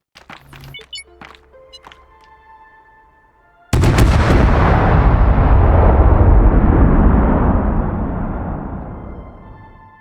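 Explosives detonate in the space exploration game Astroneer: quiet clicks and small thuds, then one sudden, very loud blast that rolls into a long, rumbling decay lasting several seconds.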